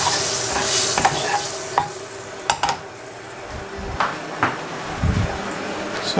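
Onions going into hot oil in a pan for a vegetable and egg frittata, giving a steady sizzle with scattered stirring scrapes and clinks of a utensil against the pan, close by and fairly loud.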